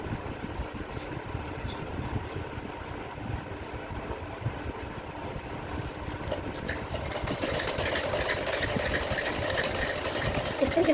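Sewing machine stitching the sleeves of a size 32 Rajputi poshak, a steady whirring run of machine noise with a continuous mechanical buzz that grows slightly louder toward the end, no talking.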